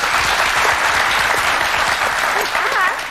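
Talk show studio audience breaks into loud, sustained applause, with a voice rising over the clapping near the end.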